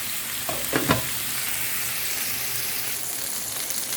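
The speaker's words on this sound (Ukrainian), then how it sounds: "Ось, друзі, до такого стану я обсмажила свої реберця" Pork ribs fry in a pan for cabbage soup, with a steady broadband sizzle throughout and a couple of brief clatters near the start as the pieces are stirred and turned. No one speaks.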